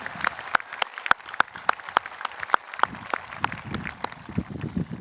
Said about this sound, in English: Let's hear one more round of applause for our senior choir students and for their conductor